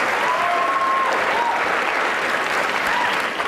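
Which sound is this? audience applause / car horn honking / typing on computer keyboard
audience applause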